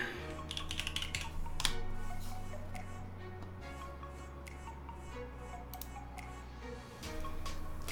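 Keys clatter quietly on a KeyCult No.1 mechanical keyboard during a test, a soft, irregular run of clicks over a steady low electrical hum.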